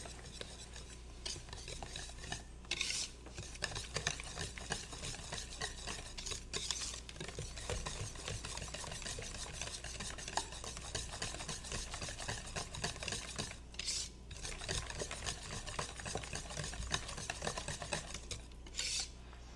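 Vegan chocolate chip walnut banana bread batter being stirred in a bowl, a continuous close, soft scraping and swishing with occasional louder clinks of the utensil against the bowl, no talking.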